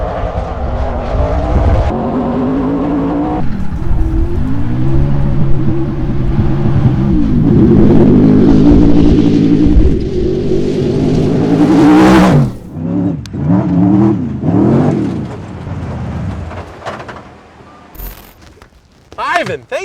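A Toyota Racing Development race truck engine revs loudly up close, pitch climbing and falling through several surges before cutting to quieter idling bursts.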